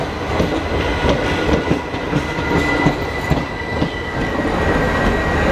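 A Nandigram Express passenger train heard from onboard as it runs along the track: a steady, loud rolling rumble with rhythmic wheel clatter throughout, and no voices.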